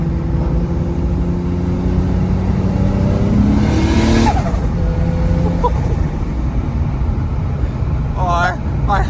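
A 2JZ-swapped BMW E36 on a dyno produces a loud, steady engine drone with rising and falling harmonic tones, then a brief revving swell, while people talk over it.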